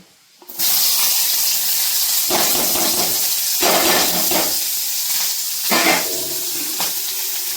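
Onions sizzle loudly in a hot pan, starting abruptly and continuing as a dense hiss with bursts of crackling as they are stirred.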